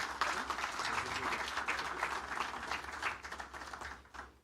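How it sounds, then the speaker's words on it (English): Audience at a supplier development workshop applauds, a fairly faint wash of clapping from a crowd heard at a distance, tailing off at the end. "Now, I'm going to request you to clap"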